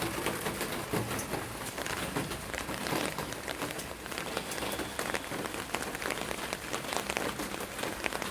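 Steady rain falls outdoors in La Mata, Spain, a dense continuous hiss of drops on surfaces that stays even and fairly close, with no voices and only faint hints of birds in the background.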